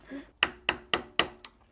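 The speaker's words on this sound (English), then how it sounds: "I'm gonna take it to the bench vise and see if I can tap it free with a hammer." A hammer taps a rusted snap ring held in a bench vise during brake work on a barn-find Chevelle: four sharp, evenly spaced metallic strikes ring out close by, then a softer fifth tap.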